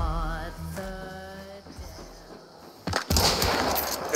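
Two gunshots in the game Hunt: Showdown, heard as sharp cracks near the end with a ringing tail, after a humming tonal sound and quieter ambience.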